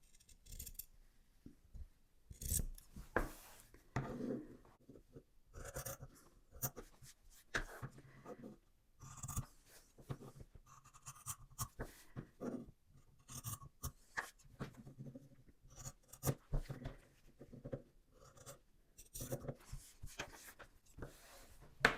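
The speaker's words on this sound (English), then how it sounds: "now you need to go and cut off all your points" Scissors snip off the fabric points close to the stitching on a padded Christmas tree decoration, a long run of quiet, close, irregular crisp snips and rustles with no talk.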